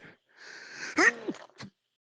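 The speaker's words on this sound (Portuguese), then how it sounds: "Desculpa pelo espirro." A single sharp sneeze with a breathy intake before it, close to the mic in an otherwise quiet room.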